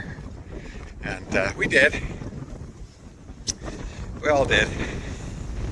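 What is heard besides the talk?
wind blowing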